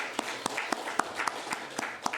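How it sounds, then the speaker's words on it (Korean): Congregation applause during a church sermon, a sparse group clapping with distinct claps in a loose, roughly steady rhythm over a quiet room, brief and moderately faint. "박수"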